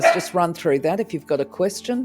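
A dog barks in short, repeated bursts indoors, mixed in beneath close, continuous talk.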